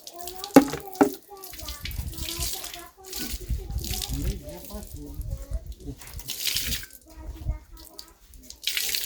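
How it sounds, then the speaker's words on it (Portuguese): Water is poured and splashed to dissolve grated cassava starch at a flour mill, with bursts of running and sloshing water under nearby conversation. "Eu dissolvo um pouquinho aqui com água, coloco aqui."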